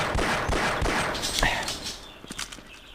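Rapid, close weapon fire from Half-Life's hitscan guns, a quick string of sharp shots that thins out into a few scattered bursts.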